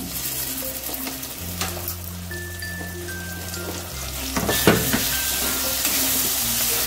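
Coriander and cumin powder sizzle steadily in a hot pan while being stirred, with occasional scrapes and clinks of the spoon and a faint background tone.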